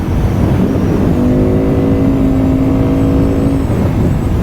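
A Benda Chinchilla 350 Neo CVT scooter engine revs up in a smooth, steady rising drone, loud and close, with the engine note climbing and then easing off.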